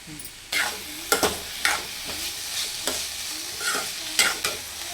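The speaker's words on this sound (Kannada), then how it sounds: "ಸ್ಟೀಮ್ಡ್ ಬೀಟ್ರೋಟ್ ಹಾಕಿ ಅದಕ್ಕೆ ಸ್ವಲ್ಪ ಉಪ್ಪು ಹಾಕಿ ಇದನ್ನು ಸಪ್ರೇಟಾಗಿ ಸ್ಟೀರ್ ಫ್ರೈ ಮಾಡ್ತಾ ಇದ್ದೀವಿ" Steamed beetroot with butter, turmeric and salt is stir-fried in a pan, giving repeated scraping and clattering strokes of the spatula at a steady, uneven rhythm over a soft sizzle, with no voices.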